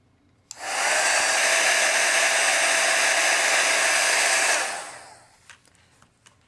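A heat embossing tool melting embossing powder switches on with a sudden, loud, steady fan-blower roar for about four seconds, then winds down, followed by a few soft taps.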